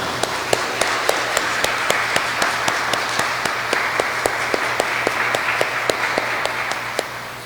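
An audience at a church anniversary conference applauds warmly, a dense continuous clapping bed with a strong rhythmic unison clap beating steadily throughout, loud and sustained.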